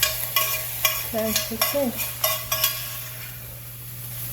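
A spoon scrapes and stirs lasagna ingredients in a hot pan, with a few sharp clinks against the metal over a steady sizzle and low hum, while a person speaks briefly.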